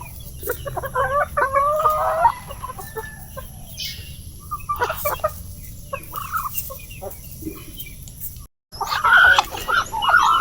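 Several chickens cluck and squawk nearby on a farm in irregular bursts, with scattered calls and background rustling.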